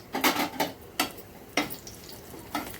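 Green chillies roast in a hot pan, with a soft sizzle underneath and several separate clinks and scrapes as a spoon stirs against the pan at irregular intervals.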